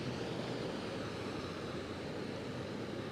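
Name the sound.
fire rescue truck driving through floodwater on road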